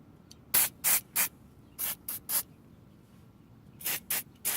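Lubricant is sprayed onto a car's door hinges in short hissing bursts, nine in all, grouped in three quick sets of three with quiet pauses between, close and fairly soft.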